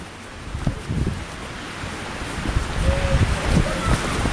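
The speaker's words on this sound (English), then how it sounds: "It's raining" Rain and gusting wind on a high mountain section of the Appalachian Trail, a continuous blustery rush with rustling and uneven soft thumps buffeting the microphone, growing a little stronger toward the end.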